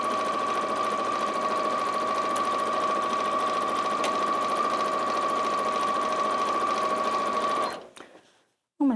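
A Janome Atelier 9 sewing machine runs steadily, stitching over a lumpy seam with a fast, even mechanical whirr and hum that holds for several seconds, then stops abruptly, leaving near silence before a brief clunk.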